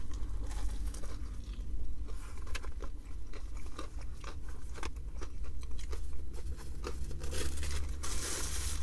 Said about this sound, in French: Je pense que vous l'avez entendu croquer au moment où j'ai croqué dedans